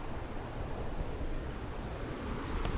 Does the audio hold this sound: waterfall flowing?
yes